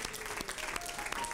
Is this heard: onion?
no